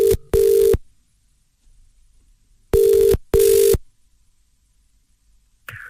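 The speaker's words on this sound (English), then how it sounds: "So wouldn't it be very awkward for Mike if he received a phone call from Donald Trump right now?" A telephone rings twice at close range, each ring a loud double burst, with silence between the rings and no talk over them.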